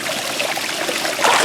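Water runs steadily into a bucket during diamond mineral separation in a swirling vortex setup, a close, continuous splashing trickle that swells slightly louder near the end.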